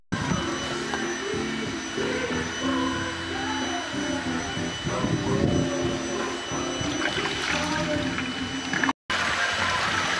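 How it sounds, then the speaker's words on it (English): Water drains from a pool filter during pool closing, making a steady rushing, gurgling wash with whining tones over it that run continuously before a brief cut. "Filter's draining now."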